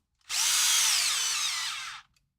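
A power drill whines in one short, loud burst of about two seconds, driving a screw into an RC crawler, with the pitch dropping slightly as the screw seats.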